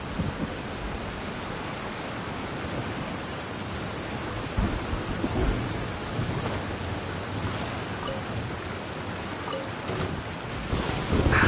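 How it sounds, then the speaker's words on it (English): Steady heavy rain pours throughout as thunder rolls and rumbles beneath it, a dense continuous wash of sound with no talking. "That thunder's so loud."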